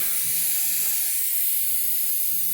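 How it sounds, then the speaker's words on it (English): Fog nozzle spraying a fine mist, a steady airy hiss held at an even level throughout, fairly faint, with no talking. "Rick, that's that little nozzle, and this is the fog"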